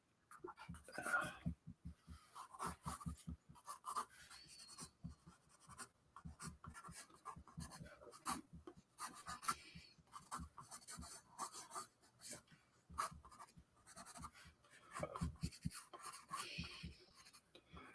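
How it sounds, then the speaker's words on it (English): A pencil draws across paper in a long run of quick, close strokes, scratching and rubbing in a busy, irregular rhythm that goes on throughout with no one talking. "The technique that we're using here is pencil, lead, and then we're going to color."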